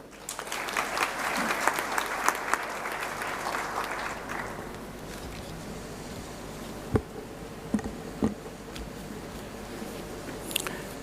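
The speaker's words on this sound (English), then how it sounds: "please give a warm round of applause to Dr. Joe Molete." An audience applauds steadily for several seconds, then the clapping thins out to a few scattered claps.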